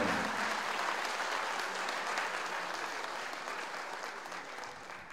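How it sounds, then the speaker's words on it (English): An audience at a village inauguration ceremony applauds warmly, a dense wash of many hands clapping that fades gradually toward the end. "How about the warm applause?"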